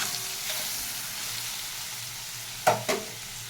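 Okra fries in a pan with turmeric, a soft continuous sizzle close by, joined near the end by two quick stirring scrapes of a spatula.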